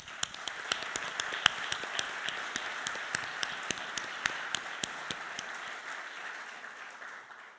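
Sustained audience applause at the Ontario Health System Quality and Innovation Awards ceremony, with many hands clapping steadily and sharp individual claps standing out, moderately loud and gradually tapering toward the end.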